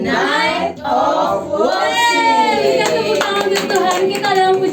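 A church congregation claps hands during Saturday-night praise and worship. Sharp rhythmic claps sit beneath prominent singing and speaking voices near the microphone.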